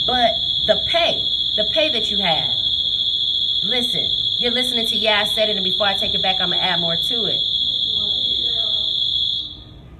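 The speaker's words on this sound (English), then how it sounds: "I guess it was our alarm at the shop." A shop alarm sounds as a steady, piercing high tone running almost the whole clip, loud and constant beneath continuous talk, then cutting off near the end.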